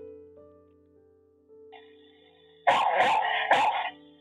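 Three sharp, loud dog barks in quick succession, close by, picked up by a CTRONICS CTIPC 590c 4K security camera, after a quiet stretch with a faint steady hum.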